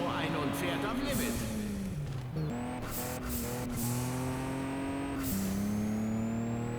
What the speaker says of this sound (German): Wagen 2 setzt Nitro ein und fährt am Limit.